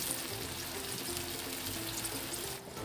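Broth pours into a pan already holding pineapple chunks for sweet and sour tilapia, a steady close splashing wash of liquid lasting a few seconds before briefly dropping away at the end.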